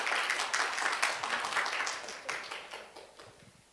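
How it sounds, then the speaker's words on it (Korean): Audience applause welcoming a guest at a pansori performance and lecture event, a steady wash of clapping from a seated crowd that gradually thins and fades over a few seconds. "박수로 환영해 주시기 바랍니다"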